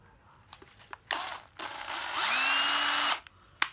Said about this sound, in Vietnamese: số 9 là một con máy khoan Ryobi 12V, máy khoan Ryobi 12V, đầu 13 ly nha mọi người